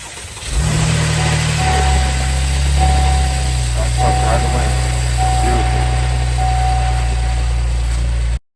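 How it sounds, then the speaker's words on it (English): Engine of a salvage-rebuilt 2024 Buick Enclave cranking into life and then settling into a steady, loud close idle before abruptly cutting off at the end. "Now it is time to try starting this vehicle."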